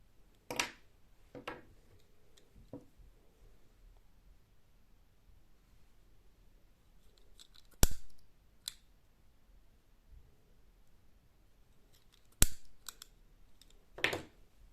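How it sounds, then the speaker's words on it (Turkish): Scissors cutting excess crochet yarn give a few sparse, crisp snips and clicks spread across a quiet, close background, with no talking. "kesip hemen arkasındaki fazla ipimi de kesiyorum"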